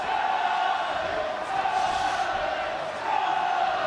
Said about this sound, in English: Now the crowd have come alive.